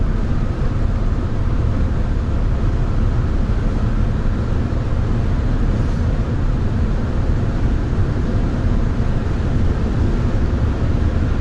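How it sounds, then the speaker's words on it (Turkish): Steady wind rush from the sunroof inside a moving Audi Q5 3.0 TDI V6 quattro, a constant low broadband roar blended with road noise and no voices. "Sunroof'tan da biraz rüzgar sesi geliyor."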